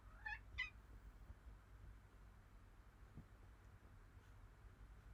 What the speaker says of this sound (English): Maybe we just heard that little interlude from my cat.